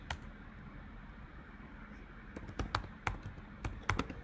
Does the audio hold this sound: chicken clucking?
no